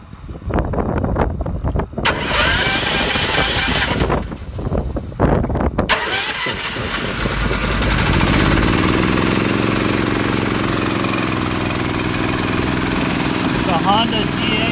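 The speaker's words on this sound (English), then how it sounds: "Start the compressor up." A Honda GX340 engine-driven air compressor on a Ford F350 crane truck cranks with a few pulls, then catches and settles into a steady, loud running drone, with people talking nearby.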